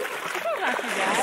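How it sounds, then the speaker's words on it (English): Water splashes and sloshes continuously as someone wades through a shallow river with small rocks and a sandy bottom in the Gila National Forest, New Mexico, with close, steady churning. "All right, going through another river."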